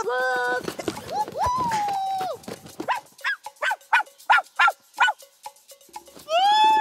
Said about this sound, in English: Woof woof. Woof woof.